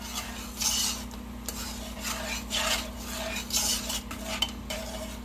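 Yellow dal being stirred in a pot, with soft scraping and clinking of a utensil against the pot in several short bursts, fairly quiet over a steady low hum.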